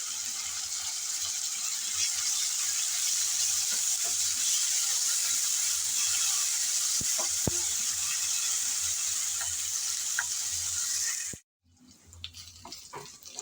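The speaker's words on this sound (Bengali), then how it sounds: "এখন দিয়ে দিলাম আদা আর রসুন বাটা।" Chopped onion frying in oil with ginger and garlic paste just added, a steady close sizzle that runs unbroken for about eleven seconds, then cuts off abruptly, leaving only faint scattered ticks.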